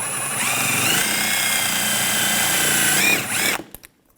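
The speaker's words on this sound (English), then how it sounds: "Taking a wire brush, just clean these up. Just get any corrosion off." A powered wire brush whines steadily and loudly while scrubbing corrosion off rear brake caliper pad clips from a 2010-2014 Volkswagen GTI, then spins down and stops near the end.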